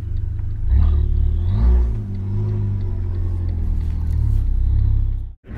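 Deep engine rumble and drivetrain drone from a car being towed by a Punto Abarth at an Italian car meeting, with a brief rev swell early, steady and close until a sudden cut at the end.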